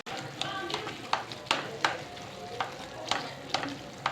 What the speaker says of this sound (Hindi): अब इसे अच्छे से मिक्स करें ताकि गुठलियाँ ना बने।